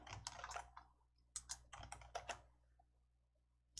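Keys on a computer keyboard pressed during word-processor work, two quick bursts of several clacking keystrokes separated by a pause, close and crisp, no speech.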